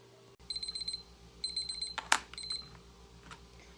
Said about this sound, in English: And now we'll set a timer for 10 minutes